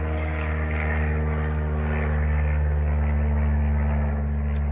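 A low-flying propeller airplane passes overhead, its loud, steady drone filling the whole stretch with strong low harmonic hum and broadband roar, no voices over it.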